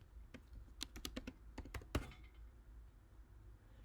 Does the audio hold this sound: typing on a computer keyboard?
yes